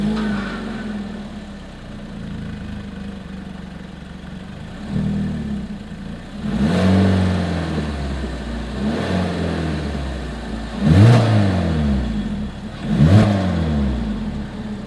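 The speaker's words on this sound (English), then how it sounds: "As always, here is that exhaust clip." A 2022 Hyundai Kona exhaust idles steadily, then revs several times, each rev rising and falling back. The sound is close and loud, with no talking.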